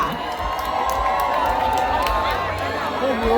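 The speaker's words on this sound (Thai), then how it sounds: "ขอเสียงปรบมือให้กับ คุณสราวุิจุ้ยซื่อค่ะ" Crowd cheering and whooping with applause greets a singer at an outdoor singing contest during a district fair in Khok Samrong, Lopburi, Thailand; a steady loud roar of voices runs throughout, with some speech mixed in.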